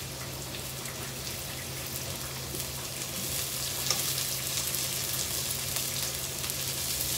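Onion sautéing in a pan for a Filipino-style seafood soup gives a steady, dense sizzle with fine crackling that swells slightly midway, close and continuous with no voices.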